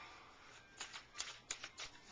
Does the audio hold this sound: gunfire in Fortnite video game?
no